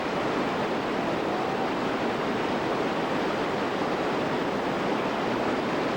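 White water rapids pouring over a river ledge into a churning hydraulic hole, a loud, continuous broadband roar with no break and no voices.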